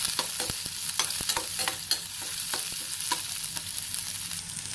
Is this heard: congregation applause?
no